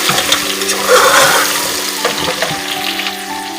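Goat trotters fry loudly in a pot with coarsely crushed ginger and garlic, giving a dense, close, watery sizzle that swells and then settles into a steady hiss.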